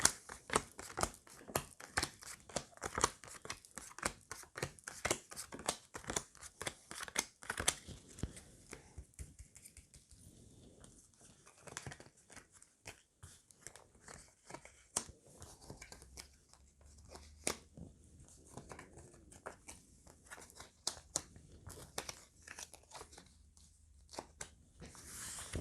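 Tarot cards shuffled and handled at a table during a reading, a rapid run of crisp riffling snaps and slaps that thins into scattered soft card flicks and placements, close and fairly quiet with no talk.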